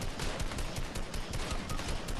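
Rapid continuous gunfire in the video game Fortnite, a dense stream of shots rattling without pause, loud and close.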